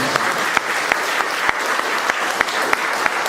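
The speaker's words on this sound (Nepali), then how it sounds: "हामी ताली बजाउँ बिलिग्रामको" A church congregation claps for Billy Graham during a Nepali sermon: loud, sustained applause from many hands with sharp individual claps standing out through the steady roar.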